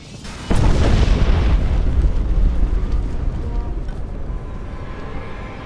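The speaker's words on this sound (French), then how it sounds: "la formidable explosion de la mine de l'Ouest" The western mine at Vauquois in 1916 detonates with a sudden deep boom, followed by a long heavy rumbling roar that slowly fades.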